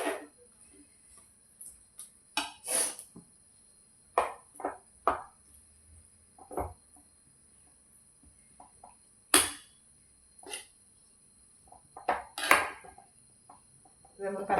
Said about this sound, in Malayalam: ഇത് നമുക്ക് നന്നായിട്ട് ഇളക്കി കൊടുക്കാം.